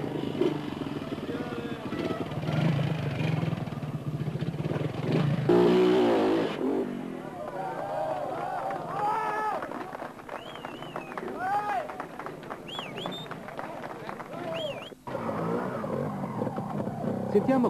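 A four-stroke Honda trial motorcycle engine revs and putters in bursts at a 1987 world championship trial, rising and falling in pitch, with a voice speaking over parts of it.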